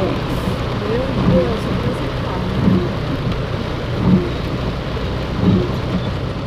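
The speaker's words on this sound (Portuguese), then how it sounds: "infelizmente a chuva foi muito intensa" Heavy rain pours steadily during a violent thunderstorm in Irecê, with a dense continuous hiss and a few low rumbles of thunder rolling in at regular intervals.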